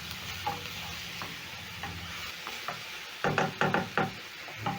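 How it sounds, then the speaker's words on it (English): Spices are stirred into a chickpea curry sizzling in a pan, a constant frying hiss with a spoon knocking and scraping against the pan, several quick clustered strokes near the end. "And then I'm going to stir in the spices."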